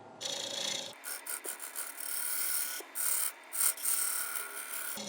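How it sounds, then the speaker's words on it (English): Scraping and rasping of a square end scraper cutting a spinning wooden chopping board on a lathe, in uneven bursts over a steady mechanical whir. "We've got the square end scraper out."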